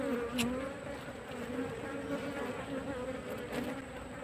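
Steady, close insect buzzing from a swarm of Asian honey bees (Apis cerana), a continuous droning hum with a few louder passes near the start and end.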